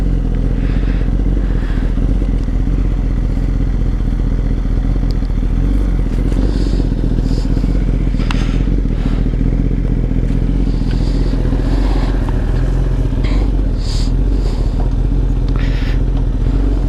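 A 2018 Kawasaki ZX10RR sport bike idles steadily and loud nearby, its low engine drone continuous throughout, with occasional clatter and light mechanical knocks over the running motor.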